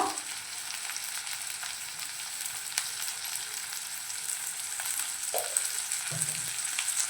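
Crushed garlic fries in a pan for a Malvani-style brinjal curry, giving a steady close hiss with a few faint scrapes and clinks of stirring.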